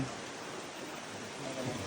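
Rain falling steadily outdoors during an event at Pisapungan, a dense even patter that continues throughout, moderately quiet, with faint human sounds in the background.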